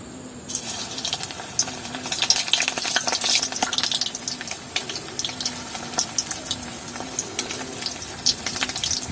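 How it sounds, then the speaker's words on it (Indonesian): Tempeh frying in hot oil in a wok, a dense, steady sizzle and crackle running continuously up close with no talking. "menggoreng tempe dulu baru baru menggoreng kerang"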